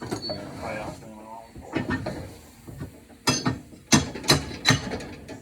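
An antique tire machine working on a slick for a Foxbody Mustang, with clanking, ratcheting mechanical knocks that build into several loud bursts toward the end, with a voice briefly at the start.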